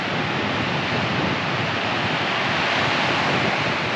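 Strong wind at a beach in Lincoln National Park, South Australia, a loud continuous roar of buffeting wind mixed with surf, unbroken and steady throughout.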